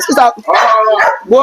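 A dog barks and yips in short loud bursts inside a garage, mixed in with excited talking voices throughout.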